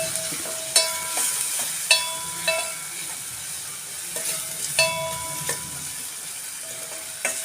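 A spoon scrapes and clinks against a pan in irregular strokes while horse gram curry with chili powder sizzles steadily beneath, close and fairly loud.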